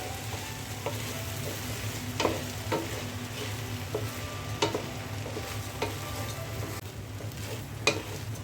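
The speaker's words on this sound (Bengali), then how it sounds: "পোলাওয়ের চালটা ভালো করে ভেজে নিতে হবে।" Pulao rice, with green chillies added, frying in a pan while being stirred: a steady low sizzle with sharp scraping and clinking strokes at irregular intervals, close and fairly quiet, no talk.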